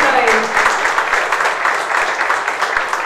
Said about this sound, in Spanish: Renovamos el aplauso, ¿les parece?